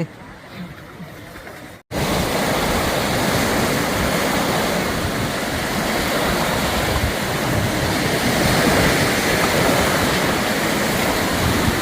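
Sea surf breaking on a beach, a loud continuous roar of waves with wind buffeting the microphone after a brief quieter moment at the start.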